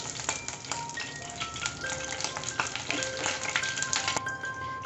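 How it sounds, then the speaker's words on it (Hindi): Whole spices (black pepper, a bay leaf and a cinnamon piece) fry in hot oil, giving a steady close sizzle with scattered crackles and pops and no talking. "अब इन खड़े मसालों को थोड़ा सा हम पका लेंगे इस तेल में"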